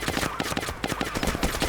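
Rapid bursts of gunfire in Arma 2 DayZ, a quick string of sharp, closely spaced shots ripping out like automatic fire, loud and close.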